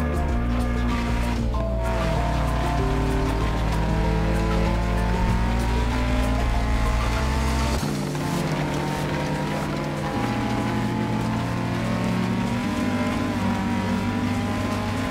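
Rally car engine in DiRT Rally revving steadily through a stage, shifting pitch with gear changes and a brief dip near the middle, loud and continuous with no talk.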